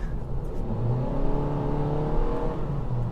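Honda Jazz 1.5 with a CVT gearbox driving, its engine holding a smooth, steady drone with slowly rising pitch and no gear changes, heard from inside the car without talk.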